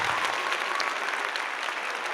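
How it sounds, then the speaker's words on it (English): Live podcast audience applauding as a guest is brought on, a continuous bright clatter of many hands that stays even and fairly loud throughout, with no voices over it. "just give him a round of applause"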